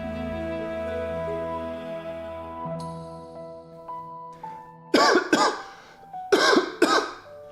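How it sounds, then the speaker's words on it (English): Four harsh coughs in two quick pairs, close and loud, following a sustained tonal hum that fades out beforehand. "I hope that's not super loud when I'm coughing"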